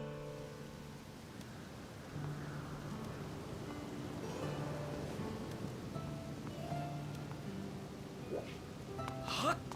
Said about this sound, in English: it was raining last I left it